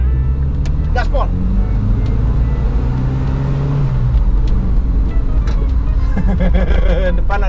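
Toyota Kijang car driven at full throttle, its engine straining under hard acceleration with a droning whir and road noise from inside the cabin, while people talk over it.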